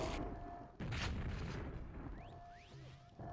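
Grenade blasts in the QuakeWorld video game during a 2on2 match, a couple of dull booming bursts with whooshing projectile sweeps between them, fairly close and moderately loud.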